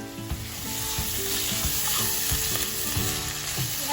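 Pork and bamboo shoots stir-fry in a pan with a loud, close, continuous sizzle, punctuated by repeated scraping and clacking as the pieces are tossed. There is no speech.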